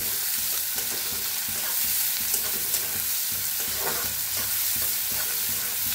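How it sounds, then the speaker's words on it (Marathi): Finely chopped onion roasting in a pan with cumin seeds, giving a steady, close sizzle with light stirring scrapes throughout and no voices. "आता त्याच्यातच बारीक असा कांदा कापून घेतलाय बघा, छान असं भाजून घेऊया कांद्याला बी।"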